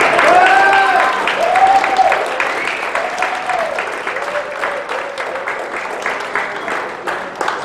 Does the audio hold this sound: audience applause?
yes